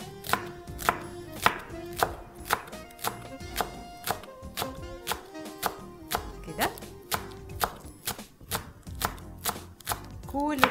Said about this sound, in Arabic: فهناخد بصل اخضر نقطعه كده اهوت